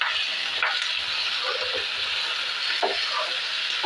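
Tomatoes and curry leaves fry in a pan for a Kannada-style tomato gojju, giving a steady close sizzle with a few soft scrapes of stirring and no talk.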